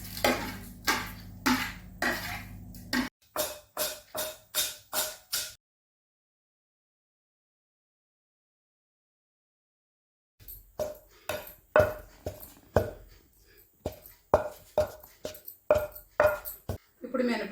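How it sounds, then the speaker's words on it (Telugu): Roasted split urad dal pounded in a stone mortar gives a steady run of rhythmic thuds, first in a quick regular series, then after a silent gap in more uneven strikes with a faint ring, heard close and alone. "ముందు ఈ దోరగా వేయించుకున్నటువంటి మినపగుళ్ళు రోట్లో వేసి దంచుకోవాలి"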